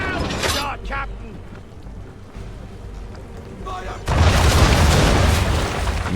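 Ship cannons firing round shot in the Assassin's Creed 3 naval battle, heard as low booming rumbles in the first half that break into a loud, sustained roar of blasts from about four seconds in.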